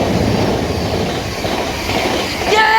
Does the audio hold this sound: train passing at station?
yes